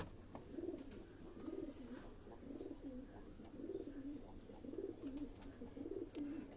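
A pigeon at a champion pigeon-flying event coos softly and repeatedly in a steady, regular rhythm, faint and fairly close, over a quiet outdoor background.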